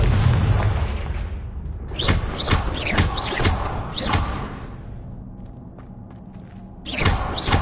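Confringo blasting-spell explosions from Hogwarts Legacy: a string of sharp booms and thuds, some in quick pairs, with whooshing tails and a dip into quieter stretches between bursts, and no speech.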